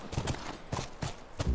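Hooves clip-clop on the ground as a horse is ridden in the video game The Last of Us, several distinct, evenly spaced thuds close by, with a low rumble at the end.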